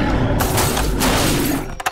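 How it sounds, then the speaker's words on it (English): A short crunching shatter comes as a toy T-Rex breaks the glass roof of a classic-style toy car from a Jurassic World Dominion set, loud and close, ending with a couple of sharp knocks. "you can press down on the glass on the top here and try to break in"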